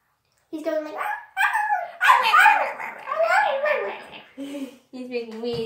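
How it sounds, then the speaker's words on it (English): A small dog yips and whines in short, high bursts, close by, reacting to a blow dryer, mixed with excited vocal noises and a child-like voice. "you can probably hear him barking when we're doing it"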